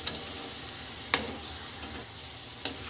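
Mixed bhujia pakoda fry in oil with a soft, even sizzle that runs throughout. Two faint clicks of a utensil break in briefly, with no talking.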